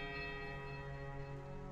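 A thick, heavy iron bell struck in the video game Pillars of Eternity rings out with a sustained, resonant metallic tone that hangs evenly and fades slowly.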